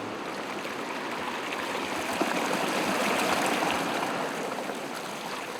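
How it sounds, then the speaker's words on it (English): Mountain stream water runs steadily through hand-dug irrigation trenches between rearranged stones, a continuous close broadband rush and trickle with no pauses. "rearranges stones in the mountain stream to let the water run through the trenches he has dug"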